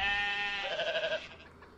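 A sheep in the School of Dragons video game lets out one loud, wavering bleat up close, fading away after about a second with no talk over it.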